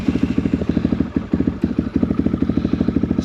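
A Honda CRF450RL fitted with a new header and exhaust idles and chugs at low revs, its single-cylinder engine firing in an even, rapid pulse close to the microphone, with no one speaking.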